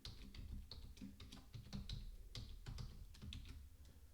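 Typing on a computer keyboard while entering a password, a steady run of quick, close key taps with irregular rhythm and no talking.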